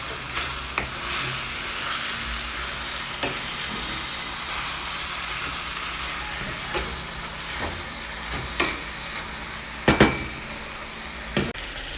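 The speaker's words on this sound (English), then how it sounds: "we will cover this to let it simmer" Liver seasoned with black pepper simmers in a covered pot, giving a steady, faint hiss broken by a few soft ticks and pops.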